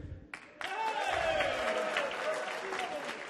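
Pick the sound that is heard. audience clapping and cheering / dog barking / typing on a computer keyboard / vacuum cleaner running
audience clapping and cheering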